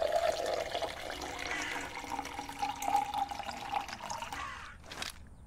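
Water filling in the video game We Harvest Shadows, a steady rushing, splashing flow of liquid that runs continuously for several seconds before cutting off, followed by a brief burst of noise.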